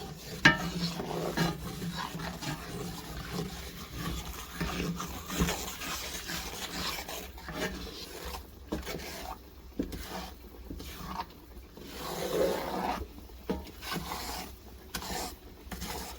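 A spoon scrapes and stirs a darkening roux for gumbo with collard greens in a pot, giving a soft, steady rasping and faint sizzle that stays close and quiet, with no one talking.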